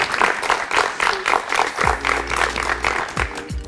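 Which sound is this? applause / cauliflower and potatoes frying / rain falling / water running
applause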